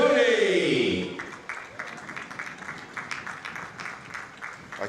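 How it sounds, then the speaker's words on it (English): At a polo championship final, an audience gives a light, polite round of clapping for the players: soft, scattered claps that continue at a modest level, with an announcer's amplified voice over the opening second. "A nice, polite ribbon of applause."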